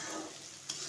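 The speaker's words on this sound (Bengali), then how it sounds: "পেঁয়াজটা ভাজার সময় আমি একটু নুন দিয়ে দিয়েছিলাম যাতে পেঁয়াজটা তাড়াতাড়ি ভাজা যায়।" Onions frying in a pan, nearly browned, with a little salt added, for a chicken and potato curry; a steady soft sizzle runs throughout, with a brief clink of stirring near the end.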